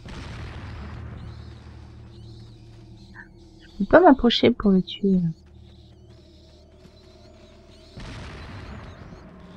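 Explosive charges hurled by an enemy in the Resident Evil 4 video game burst in a quick cluster of four or five loud bangs, standing out over a low game background hum while someone talks before and after.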